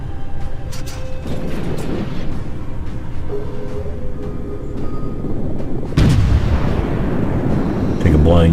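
Heavy naval gunfire booms out in the World of Warships video game over a constant rumble of battle, with a louder salvo striking around the middle and another blast near the end.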